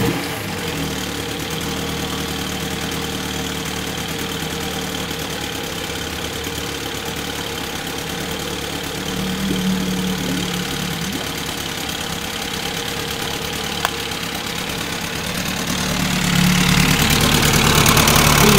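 A small Evinrude 6 outboard motor idles steadily and alone, a low, even putter with a slight rise in loudness toward the end.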